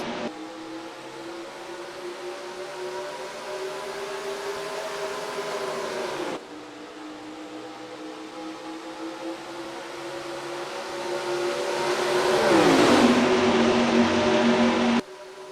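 Race car engines in NASCAR Racing 2003 at a green flag start in the Gatorade Cup Series at College Station, Texas: a steady droning roar of a pack, swelling louder near the end before cutting off abruptly.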